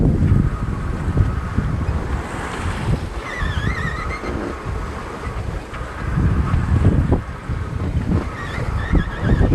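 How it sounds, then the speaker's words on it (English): Wind rushing past a sailboat running downwind with the jib flapping, a gusty, roaring wash with water sloshing along the hull and faint fluttering, rising and falling in strength throughout, no voices. "The wind's kind of mostly behind me and the jib was just flapping, so I just stuck the main all the way out, catching some wind"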